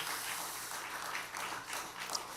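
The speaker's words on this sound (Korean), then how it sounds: "우리 다시 한번 감사의 박수하도록 하겠습니다." A church youth group claps in thanks for the volunteers of a Friday gathering, a soft, diffuse wash of applause that stays fairly even and distant throughout.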